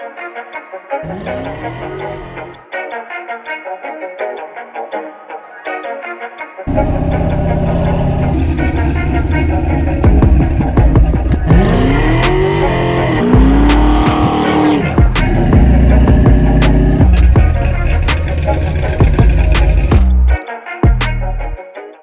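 A 1965 Ford Mustang coupe with a 427 stroker engine roars loud and close, its revs climbing and falling in repeated surges, with a quieter idle stretch before the engine swells into sustained heavy revving.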